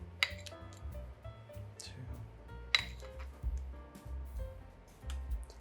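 Tablespoons of butter dropped into a dish of chipotle smashed sweet potatoes, with a few sharp clinks of metal utensils against the dish spread over several seconds beneath ongoing talk.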